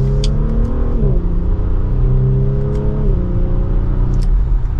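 A 2024 Audi SQ5 Prestige SUV accelerates from second gear, its engine note climbing steadily, dropping with a quick upshift and rising again, heard loud and close from inside the cabin with no talk.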